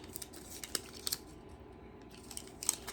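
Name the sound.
scissors trimming cured UV resin overpour off a pendant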